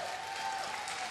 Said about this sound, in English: give a cheer for your 2 players, Naniwa and 6 Jacks Terran